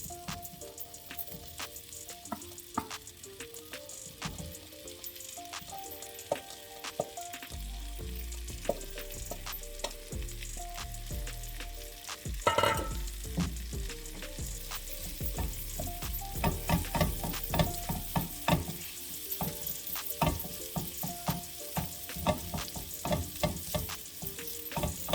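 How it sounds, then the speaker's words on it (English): Beef strips frying in a skillet for a teriyaki noodle stir fry, a loud, continuous crackling sizzle that builds and intensifies midway, with dense popping bursts and no voices. "And now I'm going to add my beef."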